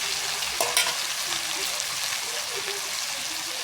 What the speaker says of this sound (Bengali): এবার পেঁয়াজের মধ্যে আলু আর পটলটা দিয়ে দেব।